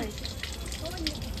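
Water gushes steadily from a hose pipe during rooftop cleaning, a continuous splashing rush with people talking over it.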